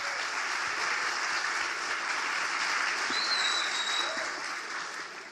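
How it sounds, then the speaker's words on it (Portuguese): Applause from the crowd at a front-end web development conference talk in São Paulo rolls on for several seconds, a thick, steady wash of clapping that tapers slightly at the end. "Uma salva de palmas para eles, por favor."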